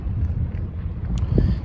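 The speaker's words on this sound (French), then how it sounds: "Surtout là en plein vent là, sur la mer." Strong sea wind on the Opal Coast buffets the microphone in low, gusty rumbles, loud and close, with brief rises and dips and no speech.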